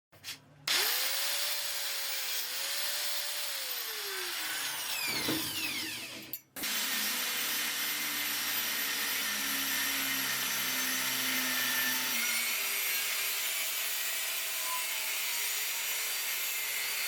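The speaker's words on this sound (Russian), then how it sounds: "По размеченным линиям болгаркой вырезаем контуры лезвия лопаты." Angle grinder cutting a shovel blade contour out of metal sheet, a loud continuous abrasive whine that rises and dips in pitch, briefly stops near the middle, then resumes steadily.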